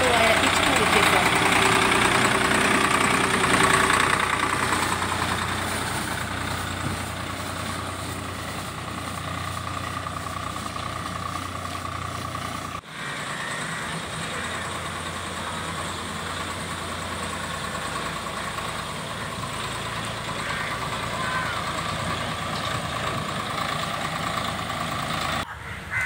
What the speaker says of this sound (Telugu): సోడియం హైపోక్లోరైడ్ను ట్రాక్టర్తో ఆయన పిచికారీ చేశారు.